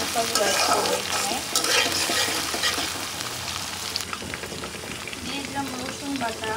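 Prawns sizzle loudly in a frying pan with steady crackling and intermittent stirring scrapes, a dense continuous fry that stays close throughout.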